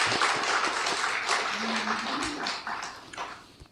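A church congregation at a Sunday worship service claps in a broad, steady wave of applause that gradually fades toward the end, with a brief voice partway through.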